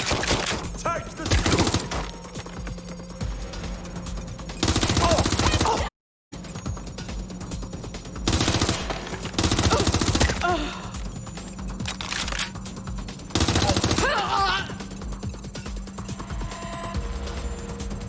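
Bursts of rapid gunfire in Watch Dogs Legion come in loud, sustained volleys separated by quieter stretches, with voices speaking in between.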